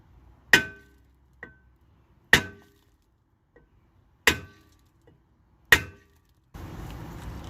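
Four sharp light hammer taps on a 2011 Camaro SS rear brake rotor, spaced a couple of seconds apart with a faint lighter tap between, then a steady hiss.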